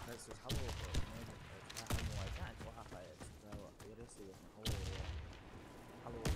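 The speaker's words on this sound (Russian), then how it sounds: "Кидаю гранату!" Gunfire and explosive blasts from a Warface online shooter match, including a thrown grenade, with sharp bangs recurring near 0.5, 1, 2 and 4.6 seconds over continuous battle noise and talk.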